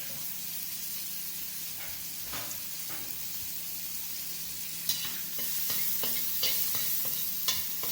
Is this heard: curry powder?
yes